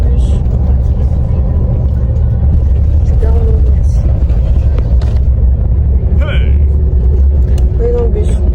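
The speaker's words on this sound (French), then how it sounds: "On est dans le bus." Interior of a moving bus on a rainy day in Spain: steady low engine rumble and road noise throughout, with faint rattles and brief squeaks over the drone, and no talk.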